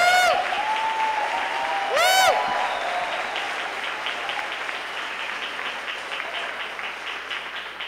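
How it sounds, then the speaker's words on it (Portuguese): A church congregation applauds, a dense, steady wash of clapping that fades gradually, with a few whooping rising cheers near the start. "Aplauda o Senhor Jesus!"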